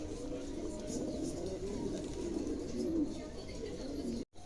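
A pair of Lakkha fantail pigeons coo in soft, low, warbling murmurs, close by over a steady hum of background noise, ending in a brief dropout.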